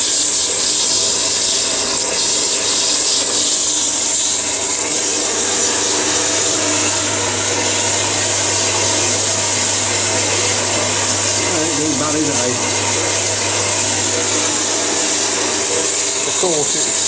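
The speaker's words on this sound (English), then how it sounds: "let's go and have a look and see how the bandsaw's getting on" A bandsaw cutting through an EN19T steel bar in a workshop, a loud, steady hiss and grind with a constant low motor hum running under it throughout.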